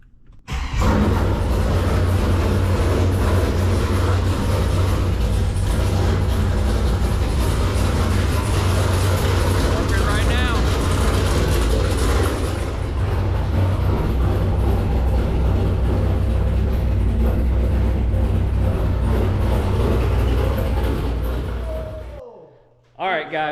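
A 2002 Pontiac Trans Am WS6 fires up and settles into a loud, steady, deep engine rumble that holds for about twenty seconds before cutting off abruptly.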